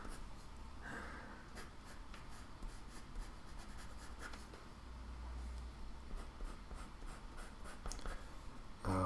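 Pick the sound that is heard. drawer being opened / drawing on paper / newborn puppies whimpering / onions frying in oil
drawing on paper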